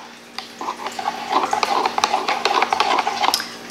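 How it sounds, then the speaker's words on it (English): Melted shea butter melt-and-pour soap base is stirred in a container, producing close, continuous soft scraping and clinking strokes in a steady rhythm over a faint background hum. "I'm just giving it a stir to make sure you don't have any lumps or anything like that."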